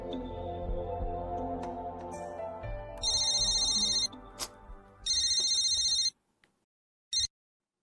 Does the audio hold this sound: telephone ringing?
yes